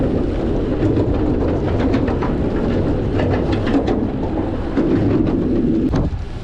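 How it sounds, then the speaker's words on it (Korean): A train rumbles past steadily with broadband noise and wind buffeting, the roar holding constant before easing slightly at the end. "자전거를 타고 지나가는데 기차가 지나가는 소리가 났다."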